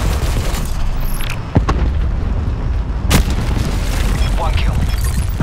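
Hellstorm missile strike in Black Ops 4, with loud booming explosions, one sharp blast near the start and another midway, over a continuous rumbling battle din.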